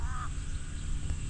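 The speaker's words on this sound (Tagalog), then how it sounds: "Ligaligay ng uwak ah." A crow caws once, brief and fairly close, near an okra and radish garden, over steady outdoor background noise.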